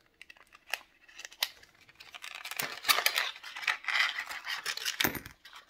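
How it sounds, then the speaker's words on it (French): Small plastic model car parts for a 1/8 scale Ferrari F1-2000 are unwrapped from their packaging close by, giving faint crinkling, snipping and ticking sounds with occasional sharper clicks, quiet and intermittent. "On va déballer nos petites pièces."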